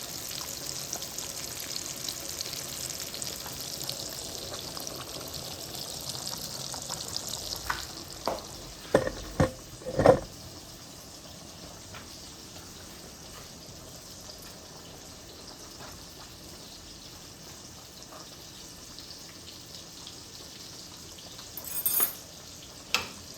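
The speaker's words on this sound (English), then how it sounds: "These sausages though, man, these sausages are so pretty right now. Listen to those sausages." Steady sizzling and hiss of sausages frying in a pan, with a few clinks and scrapes partway through, then a quieter sizzle continuing to the end.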